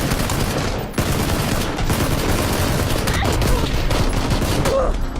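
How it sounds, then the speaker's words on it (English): Video game gunfire plays as a dense, loud, continuous barrage of rapid shots and booms that fills the whole stretch with almost no pause. "that was my last bullet, too."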